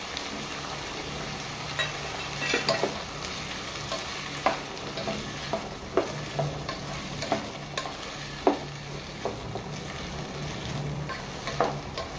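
Mixed vegetables and capsicum fry in a pan for a Goan veg korma, giving a steady soft sizzle broken by scattered clicks and scrapes from stirring.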